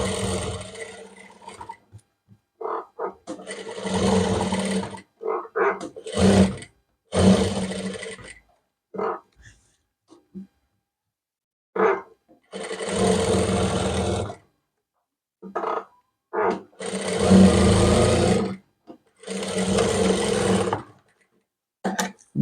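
A sewing machine stitches the edges of an umbrella frock in repeated runs of steady whirring, each lasting a second or several, separated by pauses and heard up close without talk.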